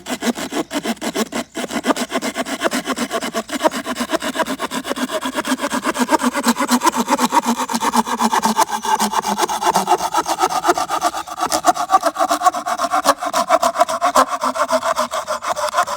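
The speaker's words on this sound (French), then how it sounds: "On va avoir aussi de la scie à bois qui va permettre de scier des petites planches" Steady back-and-forth strokes of a Leatherman Rebar multitool's small wood saw cutting through wood, close and loud, with a rough rasping rhythm continuing throughout and no talking.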